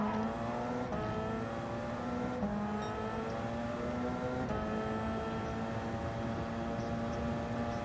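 Gr.1 race cars circling Le Mans in Gran Turismo 7 during a 90-minute endurance race: a steady, sustained engine drone with slight pitch shifts as the cars hold speed, loud and continuous with no talk.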